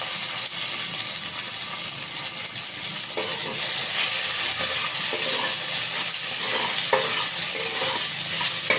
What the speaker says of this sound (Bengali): এবার আমি টমেটো কুচি দেব।